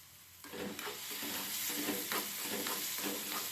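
Bread pieces fry in a hot pan for bread pizza, giving a close sizzle under repeated scraping and stirring strokes.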